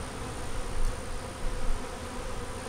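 Honeybees buzz in a dense, continuous hum during a hive inspection, close and steady, with slight swells as individual bees pass near, and no voices.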